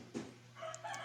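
A rooster crows faintly from some distance, a short rising call breaking through a quiet, humming background after a brief soft thump.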